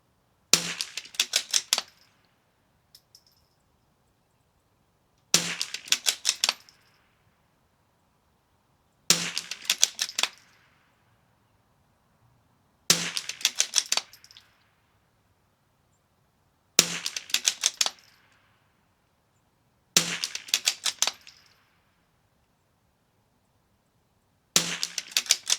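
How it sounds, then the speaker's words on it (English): Seven sharp rimfire rifle shots from a Vudoo V22 at target practice, spaced roughly every four seconds, each a crisp loud crack with a short ringing tail, alone against quiet outdoor background. "Make sure I get 10 good trigger squeezes here."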